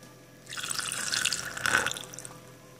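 Homemade rice water for a natural skin toner is poured through a funnel into a container, a steady close trickle and splash that swells for about two seconds before easing off.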